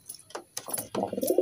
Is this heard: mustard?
no